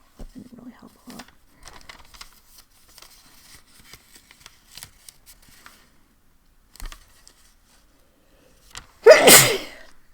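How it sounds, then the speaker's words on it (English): One sharp, loud sneeze bursts out near the end after several seconds of quiet rustling and small handling noises. "Again, with the sneezing, I'm so sorry."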